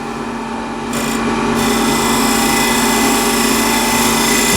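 A freshly sharpened skew chisel shears across side-grain wood spinning on a lathe, a continuous close, loud raspy hiss that swells slightly after the first second and holds steady.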